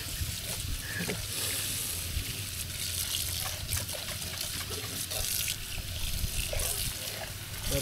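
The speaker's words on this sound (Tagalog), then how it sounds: "Hugas muna tayo ng kaldero para pagsasalinan ng fried rice." A cooking pot being rinsed under a running tap that sprays steadily into a sink throughout, with a continuous broad gush and small splashy clatters as the pot is handled.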